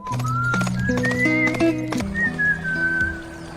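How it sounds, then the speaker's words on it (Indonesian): Horses ridden together, hooves clip-clopping in a steady rhythm, with a whinny and high whistling tones layered over them, fairly close and loud throughout. "Akhirnya mereka pun menaiki kuda bersama."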